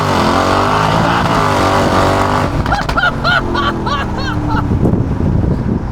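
A 1063 hp Mercedes G-Class in Sport Plus mode revs hard and accelerates, its engine note climbing loudly under heavy wind roar, then breaking into crackling pops as the pitch shifts, all heard from inside the vehicle.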